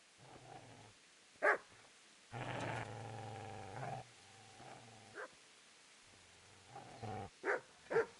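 A dog in the video game Kingdom Come growls low in sustained stretches, broken by several sharp barks near the end, close and fairly loud, with quiet pauses between outbursts.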